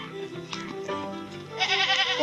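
Goats bleating close by in a farm pen, several wavering cries that overlap and swell toward the end, loud and clear with no talking.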